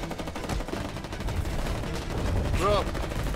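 Rapid gunfire crackles in the Foxhole war game under constant battle noise, with shots layered at different distances and a brief rising whine near the end; no clear talk.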